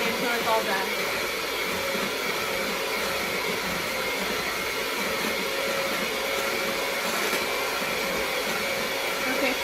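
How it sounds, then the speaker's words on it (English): An electric mixer whirs steadily while mixing gluten-free sugar cookie dough, a loud continuous motor drone that runs throughout without a break. "Okay, pause the mixing."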